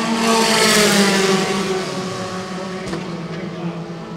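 A Formula 4 race car accelerates through the last corner of a Southeast Asian championship race, its engine note rising loud and close before easing into a steady drone as it passes, with faint commentary underneath.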